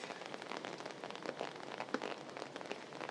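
Heavy rain falls on a city street in Singapore, a steady, dense hiss of drops spattering on pavement and an umbrella, fairly faint and continuous with no talk.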